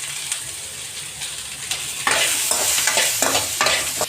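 Ginger, garlic and green chillies fry in hot oil while a spoon stirs them, the sizzle swelling louder midway with repeated scraping strokes against the pan.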